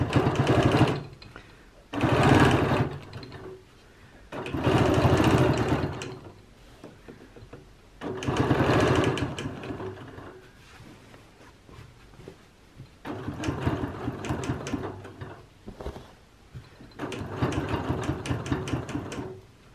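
A sewing machine stitches a curve on a quilt guided by a ruler, running in about six loud rattling bursts of stitching separated by short pauses.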